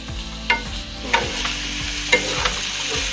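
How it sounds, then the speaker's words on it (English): Garlic and butter sizzle in a pan, a steady frying crackle broken by a few louder clinks and scrapes of a utensil against the pan, with no voices. "Putting the garlics for a little bit, putting the butter now and melting."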